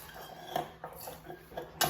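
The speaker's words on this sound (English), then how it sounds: "Just stir it up real good." A utensil scrapes and clinks against a bowl while chicken pieces coated in cornstarch are stirred, giving faint, irregular taps and scrapes in a quiet kitchen.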